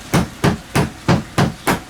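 A hammer strikes the back of a knife again and again to split a blue crab, six evenly spaced sharp knocks, close and loud, with no talking.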